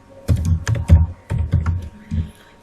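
Keys clattering on a computer keyboard as HTML code is typed, in quick bursts of clicks separated by brief pauses, close and fairly loud with no talking.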